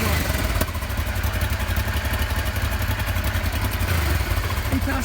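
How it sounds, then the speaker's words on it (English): A motorcycle engine, just brought back to life during a ride from Ghana to Nigeria, idles with a rapid, steady clattering throb, loud and close throughout. "Wow, the bike has started. And the bike is back firing properly."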